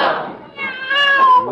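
A black cat meows with a drawn-out, wavering call, close and fairly loud, following a brief breathy sound at the start.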